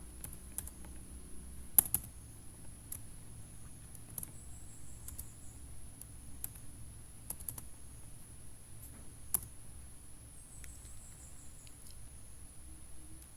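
Quiet, light tapping on a computer keyboard while variable names are entered into statistics software, with sparse clicks and a few louder keystrokes over a faint steady hum.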